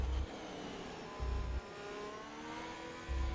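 A Formula 1 car in the F1 2021 video game runs a lap of Silverstone on soft compound tyres, its steady high engine whine rising through the gears with brief low thumps as it rides over the curbs.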